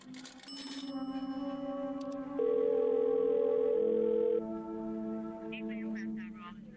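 A telephone dial tone hums steadily before a collect call is placed, a loud continuous tone that shifts pitch midway, with faint voices and background sound around it.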